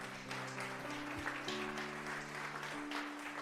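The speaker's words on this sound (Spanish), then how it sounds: "Denle un fuerte aplauso al Señor en esta tarde" A church congregation claps together in praise, a steady, fairly quiet wash of applause with sustained musical tones running underneath throughout.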